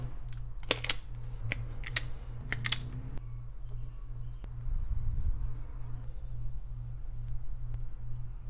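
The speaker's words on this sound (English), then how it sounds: "we're gonna cut this a little bit short and just solder right onto our tweeter" Speaker wire being snipped short with a cutting tool during a Ford F150 front door tweeter install, a few sharp close clicks in the first three seconds over a steady low hum, then only the hum.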